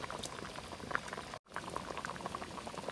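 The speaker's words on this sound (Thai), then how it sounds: "ใส่น้ำปลาจ้ะ น้ำปลาก่อนเลยนะ" Fish sauce goes into a rustic coconut-milk curry boiling in a pot, bringing a dense, close bubbling and popping that breaks off briefly in the middle and then resumes.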